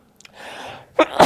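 A single close sneeze with a short inhaled build-up and a sharp burst, followed by a second burst of breath, in a quiet indoor space.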